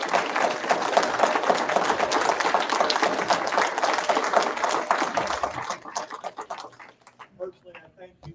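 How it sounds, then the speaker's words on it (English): A round of applause from a church congregation on the second Sunday of Advent, dense clapping with some voices mixed in that thins out after several seconds into scattered claps and then fades to near silence. "Can you give them all a round of applause?"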